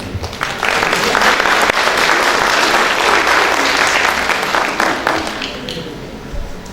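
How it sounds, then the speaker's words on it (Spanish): A loud burst of audience applause greets a licensed presenter before her talk on cereal nutrition labels, many hands clapping steadily for several seconds before tapering off. "Demos un fuerte aplauso a la licenciada Lili Salcedo para iniciar su exposición."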